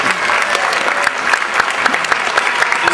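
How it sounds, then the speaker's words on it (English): Audience applause for a contestant from San Jose, California, a steady burst of clapping from a crowd that carries on evenly from start to finish. "Let's hear it for Ben."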